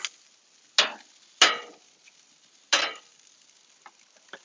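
Steak grilling on a grate gives off a few short, bright sizzling bursts, three strong flares over a faint steady crackle, close and without talk.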